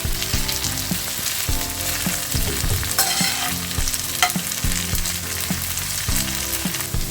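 Batter-coated cauliflower for gobi manchurian fries in hot oil with a dense, loud, continuous sizzle, and occasional utensil stirs and knocks break through nearby.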